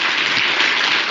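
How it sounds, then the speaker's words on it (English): A short burst of steady applause from an audience, many hands clapping together at close range. "Please give him a round of applause for coming through."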